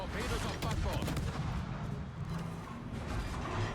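Heavy naval gunfire in a World of Warships battle, with dense, rolling booms and overlapping cannon blasts forming a continuous loud roar with no pauses.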